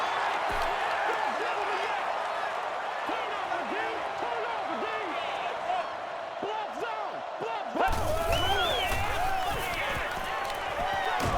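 Stadium crowd roaring and cheering after a catch in the Madden NFL 10 football video game, a steady loud wash of voices that swells sharply near the end, with commentary-style talk running underneath.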